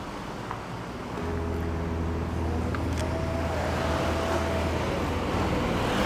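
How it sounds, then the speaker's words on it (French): Busy city street traffic rumbles steadily at mid-distance, a low engine drone swelling as vehicles pass, with faint tonal whines over the constant roadway wash. "il y a beaucoup de circulation"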